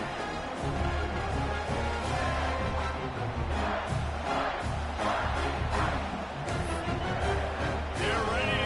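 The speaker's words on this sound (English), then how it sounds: "this crowd is buzzing after that last score" A football stadium crowd buzzing after a score in a Michigan State game, a dense steady roar of many voices that fills the whole stretch without pause.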